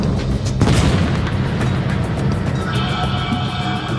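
Heavy, continuous rumbling of an aerial and naval bombardment of German defences on D-Day, a dense, loud roar of blasts that swells early and then holds steady.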